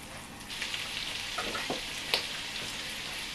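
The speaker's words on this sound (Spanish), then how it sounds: "lo mezclo todo, que se vaya sofriendo" Diced ham fries in a pan as a base for homemade croquettes, giving a continuous close sizzle with occasional crackles and stirring clinks and no voices.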